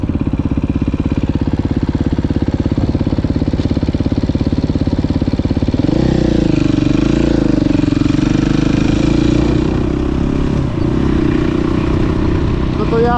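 A motocross bike idles close by with a loud, steady, throbbing engine. Partway through, the pitch shifts and wavers, and the engine keeps running without a break to the end.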